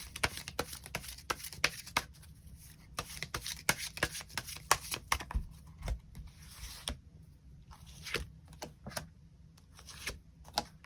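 Tarot cards being shuffled and drawn, heard close and quiet: uneven bursts of crisp riffling, snapping and flicking with short pauses between handfuls, and no voices.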